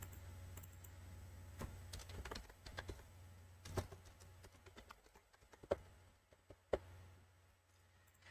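Keys tapped on a computer keyboard in scattered, irregular clicks, faint and close, with quiet gaps between presses and no talking.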